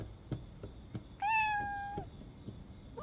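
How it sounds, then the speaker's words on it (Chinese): A single cat gives one clear, drawn-out meow of about a second, close and fairly loud, between soft rhythmic background knocks, with the start of another meow at the very end. "野猫乱跑"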